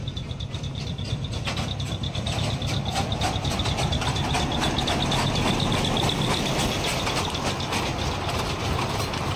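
A small tourist train on Elephanta island rumbles steadily and close, with rhythmic clacking and rattling mechanical noise throughout. No one speaks.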